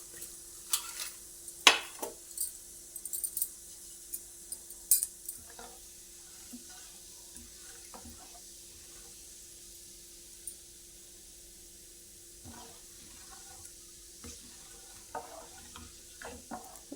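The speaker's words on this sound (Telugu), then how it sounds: "అట్లా వేగుతున్నాయి కదండి. మిరప విత్తనాలు వేసుకుందాం." Chilli seeds tossed into hot oil for the tempering of a tomato pickle, with a faint steady sizzle and a few early clinks of a spoon stirring against the pan, then quieter frying with occasional scrapes.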